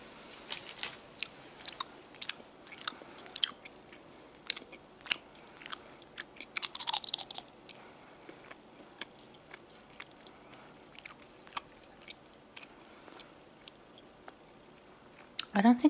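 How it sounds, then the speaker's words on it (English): Gum is chewed close to the microphone, producing quiet, irregular wet clicks and smacks with a few louder snaps, intimate and soft throughout. "I don't think I've ever done a gum chewing video before"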